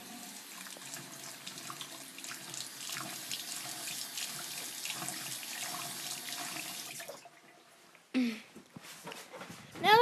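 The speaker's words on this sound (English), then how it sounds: "I'm gonna go get a cup of water. So actually, I'm just gonna get it from the sink." A sink tap runs water into a cup for about seven seconds as a steady rushing stream, then cuts off, followed by a few brief clattering noises.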